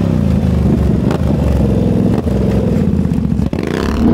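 A four-wheeler ATV engine drones loud and close throughout during a hand drag, revving with rough clattering and scraping over bumpy ground.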